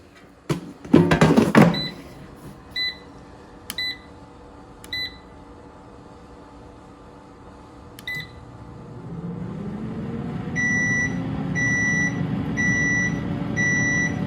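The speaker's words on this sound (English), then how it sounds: "So we had to hear 2 timers." A kitchen air fryer and an oven timer beep: several isolated single beeps early on, then a steady rising hum with repeated rhythmic electronic beeps toward the end, after a brief clatter at the start.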